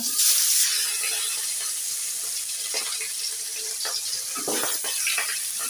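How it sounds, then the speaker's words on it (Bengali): Pangas fish pieces rubbed with salt and turmeric frying in hot oil in a pan, a loud continuous hiss and crackle with scattered pops, steady throughout and heard alone. "এখানে হচ্ছে পাঙাশ মাছ লবণ হলুদ মাখিয়ে নিয়েছি তেলের পরে দিয়ে দিলাম"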